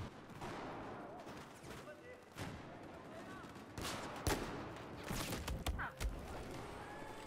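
Gunfire bursts in a Battlefield 4 match, several sharp shots and volleys spread through a busy, noisy stretch with voices talking over the action.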